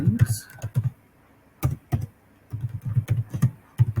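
Someone types quickly on a computer keyboard while working in Monday.com, with bursts of close, clattering keystrokes separated by short pauses.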